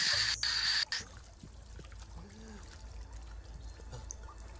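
Sewage water flowing in the Titanic: The Legend Goes On video game, a soft trickling, pouring wash that runs on steadily after a brief louder burst at the start.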